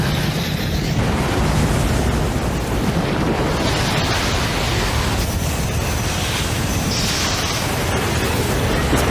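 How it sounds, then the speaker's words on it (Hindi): A bomb dropped from an aircraft explodes over water in a war film, a loud, continuous roaring rumble with splashing, surf-like wash that fills the whole stretch without pause. "कप्तान ने एक बम छोड़ा।"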